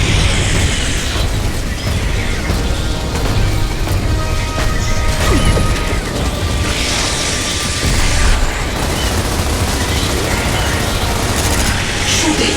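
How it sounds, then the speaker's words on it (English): Heavy explosions and crashing impacts boom repeatedly in the video game Gears of War Reloaded during the final battle against General RAAM, loud and dense over continuous gunfire and game noise. "More explosions."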